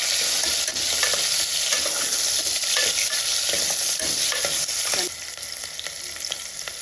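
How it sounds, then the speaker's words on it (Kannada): Onions sizzling loudly in hot oil in a pan while being stirred for a black-eyed bean curry, dense frying crackle with scraping strokes that eases slightly in the last seconds. "ಈಗ ಈರುಳ್ಳಿ ಹಾಕ್ತಾಯಿದ್ದೀನಿ ಈರುಳ್ಳಿ ಹಾಕಿದ್ಮೇಲೆ ಚೆನ್ನಾಗಿ"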